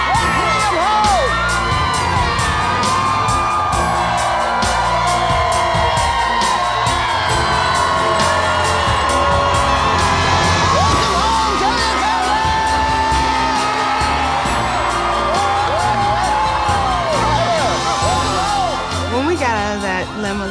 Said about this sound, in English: we saw all the outpour of people there cheering for us